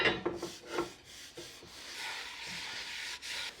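Avocado oil being rubbed onto kitchen cookware with a cloth to season it, a soft continuous close-up rubbing and wiping sound with a few brief scuffs at the start, no talking.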